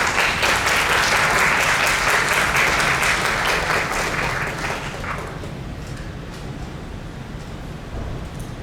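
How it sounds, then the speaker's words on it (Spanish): An audience at a Peruvian history and art event at the Biblioteca Nacional del Perú claps warmly, loud and dense at first, then tapering off into scattered claps and room noise. "Recibámosla con un cariñoso aplauso, por favor."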